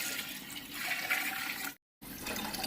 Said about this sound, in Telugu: సేమ్ అలాగే మనం మేమైతే 2 కేజెస్ రైస్ అయితే వండుతున్నాం కాబట్టి ఆ 2 కేజెస్కి తగ్గట్టుగా వాటర్ అయితే పోసుకుంటున్నామండి.